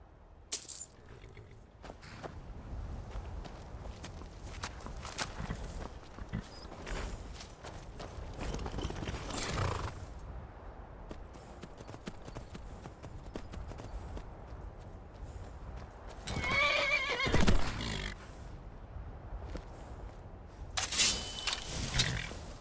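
Hooves clop steadily as a horse runs in a video game, Skyrim, with occasional louder clattering bursts and no talking.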